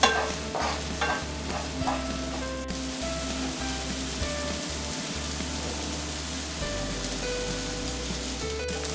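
Egg bhurji, two beaten eggs salted in a pan, sizzles and fries steadily while a spoon stirs and scrapes through it in irregular strokes, close and continuous.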